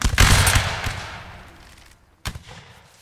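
Musket volley fire in a Napoleonic Wars line battle game: a loud, massed crackling volley bursts out at once and rolls off into a long echo, then a second, sharper shot cracks out near the end.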